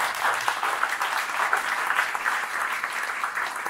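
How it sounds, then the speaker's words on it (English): An audience at a startup pitch night in Bucharest breaks into brief, lively applause, with steady clapping throughout. "She deserves a big round of applause."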